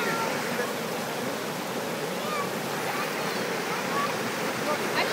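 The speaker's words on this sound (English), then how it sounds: "Rinse your face off." Water runs steadily from a tap as a face is rinsed, a continuous close rushing hiss that stays even and loud all the way through.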